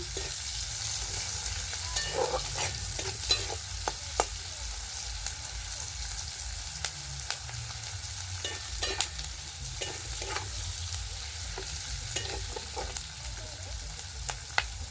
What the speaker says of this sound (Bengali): পেঁয়াজগুলো অল্প ভাজা হয়েছে